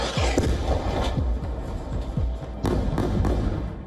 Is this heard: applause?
no